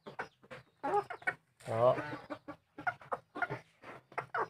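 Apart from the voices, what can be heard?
F1 decoy rooster clucking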